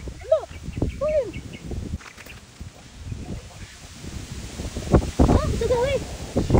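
Outdoor wind buffets and rustles at a family nature outing, a steady breathy roar beneath frequent shouting and chatter from several people and some footsteps.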